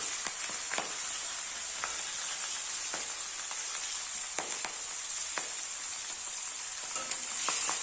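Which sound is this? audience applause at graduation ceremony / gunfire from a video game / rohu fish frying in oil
rohu fish frying in oil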